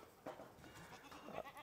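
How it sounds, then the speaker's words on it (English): Well-fed farm goats give two faint, somewhat distant bleats, a short call and then a second one a moment later. "Bunch of fat goats, they're so fat."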